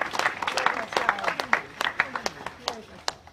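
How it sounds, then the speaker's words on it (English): Small outdoor crowd applauding at a town heritage trail opening ceremony, scattered claps tapering off, with voices talking over them. "let's just applaud."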